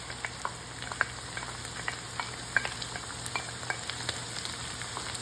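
Onions fry with ground beef in a hot pan, a dense, even sizzle with frequent small crackles and pops, steady and close.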